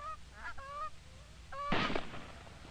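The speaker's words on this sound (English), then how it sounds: "The researchers then moved to an opening in the woods in order to provide them the long-range pass shots they desired, and they awaited the arrival of the geese." Canada geese in flight give several clear nasal honks, a few in quick succession, then a loud sharp burst near the end over steady outdoor background noise.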